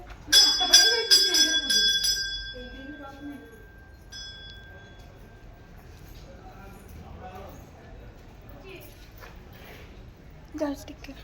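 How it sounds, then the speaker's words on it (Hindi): A temple bell rings with several quick strikes, its tone fading slowly over a few seconds while people and children talk nearby. "घंटी बजा"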